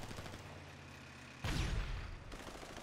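Video game gunfire during a killer-clown hunt: quiet mechanical background suddenly gives way to a loud burst of rapid shots that rings on for about a second.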